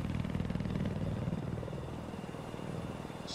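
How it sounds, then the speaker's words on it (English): Helicopter in Battlefield 4 flying overhead, a loud steady rotor drone with pulsing low thump throughout, engine whine beneath. "Well, we're in a chopper,"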